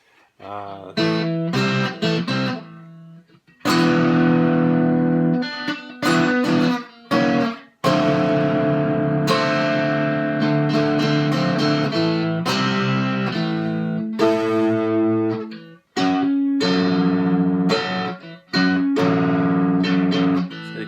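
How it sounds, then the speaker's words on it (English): A loud, buzzy, distorted tin guitar strummed and picked in bursts, chords ringing harshly with short silent gaps between phrases. "this one has a fair bit of distortion when you try and play it loud"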